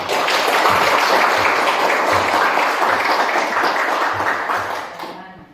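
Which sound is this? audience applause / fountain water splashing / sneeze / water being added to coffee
audience applause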